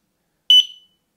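A single short, high-pitched electronic beep from an alarm device switching on sounds once, sharp and close, with a brief ringing tail in otherwise silence.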